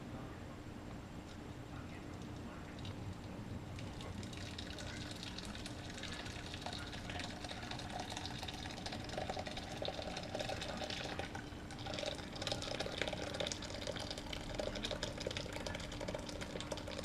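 Liquid pours steadily into a container while making homemade Mexican white cheese, a continuous watery gush at close range lasting most of the stretch with light handling noise.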